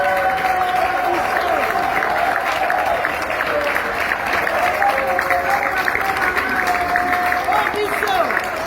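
Audience applause at the SB Award 2025 ceremony, honoring the nominees: dense, steady clapping from a large crowd that carries on unbroken for the whole stretch, with faint voices mixed in.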